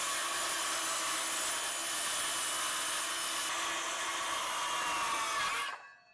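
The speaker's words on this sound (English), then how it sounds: "I could use the skill saw to cut it" A handheld circular skill saw cuts the back off a wooden composting toilet box with a loud, continuous, close-up whine, then abruptly winds down and falls silent.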